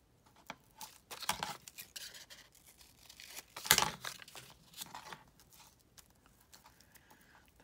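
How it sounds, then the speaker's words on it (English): Paper pieces torn by hand for a craft collage, with soft ripping and crinkling bursts and one louder tear near the middle, close and quiet, with no speech. "We could tear these pieces instead of cutting them if you wanted to."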